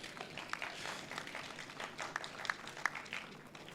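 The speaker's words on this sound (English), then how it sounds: "So that deserves a clap." Scattered applause from attendees at a credit union annual general meeting, faint and distant with uneven individual claps standing out, fairly light rather than a full ovation.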